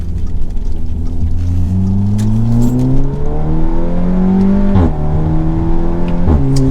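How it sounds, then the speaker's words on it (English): Modified Subaru WRX STI or Audi S3 heard from inside the cabin, its intake and exhaust droning loudly as the engine revs rise steadily, with two sharp drops where gears shift. "The intake and exhaust noises, you can hear them."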